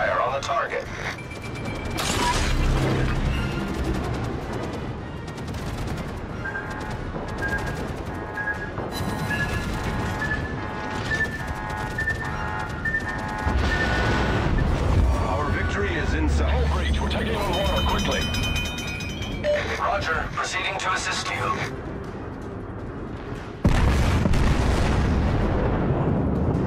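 Naval guns fire on a target in a battle game, a dense stretch of booms and mechanical clatter that keeps going, with spoken commands and radio voices over it.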